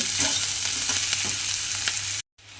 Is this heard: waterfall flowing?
no